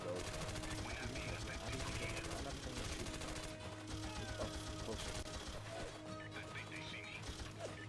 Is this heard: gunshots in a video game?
yes